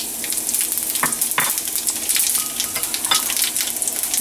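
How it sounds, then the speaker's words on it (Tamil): Two red chillies and half a teaspoon of fennel seeds sizzle and crackle in hot oil for tempering a Sri Lankan Jaffna egg sodhi, a loud close frying hiss with a few sharp pops and stirring scrapes. "இப்போ தாளிக்கிறதுக்கு கொஞ்சம் ஒயில் இதில் சூடாகி கொண்டிருக்குது. அதில் வந்து 2 ரெட் சில்லி போடுறேன்."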